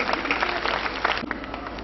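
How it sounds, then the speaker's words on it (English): Audience clapping at a school welcome event for a returning chief guest, a continuous moderate patter of many hands heard at steady level throughout. "I think we should be recording a clap also"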